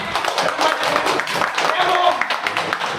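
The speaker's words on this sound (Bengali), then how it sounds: "সবাই আবার সন্দীপের বার্থডের জন্য জোরে হাততালি।" A group claps for a birthday celebration, a steady patter of hands running throughout while someone speaks loudly over it.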